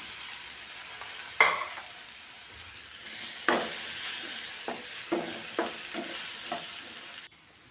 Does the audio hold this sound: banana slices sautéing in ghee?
yes